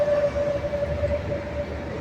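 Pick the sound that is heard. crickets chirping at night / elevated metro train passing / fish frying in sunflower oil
elevated metro train passing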